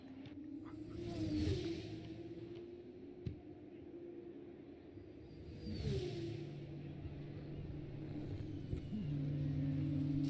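Racing cars run around the Monaco street circuit in a video game, their engines giving a steady mid-pitched drone. Two swelling passes stand out, and a sharp click breaks in once. The mix sits at a fairly quiet level with no talking.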